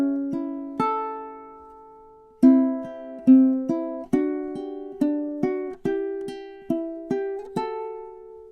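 Plucked ukulele notes trace a gentle fingerpicked lullaby melody, a few sparse opening notes followed by a steadier run of evenly spaced picked tones, each decaying quickly, close and clean with no voices.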